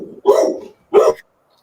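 A dog gives two sharp, loud barks close by with a short pause between them, and nothing else is heard around them.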